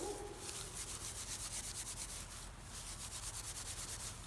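Hands rub and crush dry broomstraw grass seed heads, producing a close, steady, rhythmic rustling and scratching that repeats in quick strokes for several seconds.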